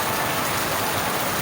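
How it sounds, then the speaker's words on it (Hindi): Heavy rain pouring down at night in Karachi, a dense, continuous roaring hiss of water falling on the ground, loud and unbroken throughout. "गुज़िश्ता शब कराची में बादल जमकर बरसे,"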